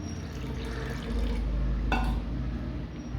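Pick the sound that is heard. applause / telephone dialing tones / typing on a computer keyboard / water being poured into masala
water being poured into masala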